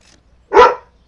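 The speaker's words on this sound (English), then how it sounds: "You're not going to go out there to just keep barking and pissing off the neighbors." A single loud, close dog bark, short and sharp, standing alone against near silence.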